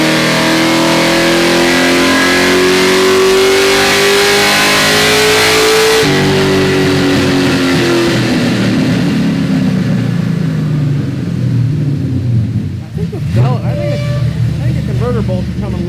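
A nitrous-fed Ford Mustang engine on a chassis dyno revs hard and loud, its pitch climbing steadily before a sudden drop and a long winding-down roar, with brief voices near the end.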